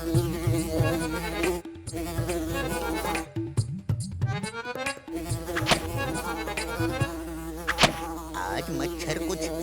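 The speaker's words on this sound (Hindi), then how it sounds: "आज मच्छर कुछ ज्यादा ही लग रहे हैं।" Mosquitoes in a 3D cartoon whine and buzz continuously at close range, their high droning tones wavering and swooping through the whole stretch, with brief near-silent breaks.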